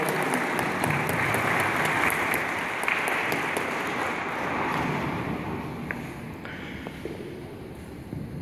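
Applause from an audience at a community development council (COCODES) assembly in Guatemala, steady broadband clapping that sustains for several seconds and gradually thins, with faint voices and some wind in the background.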